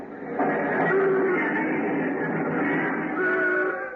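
Dense, steady roar of busy Broadway street noise from 1935 with rumbling engines and clattering, a constant loud wash of traffic sound throughout.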